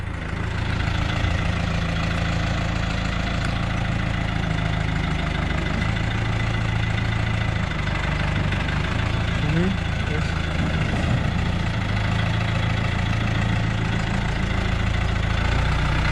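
A tractor engine idles steadily with a constant low rumble and knocking, close by, while people talk over it.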